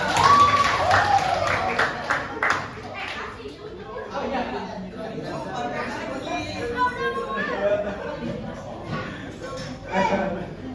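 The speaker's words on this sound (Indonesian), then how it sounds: "Semuanya tepuk tangan dong." A classroom audience claps hands in a short burst at the start, then the clapping fades into chatter and children's voices.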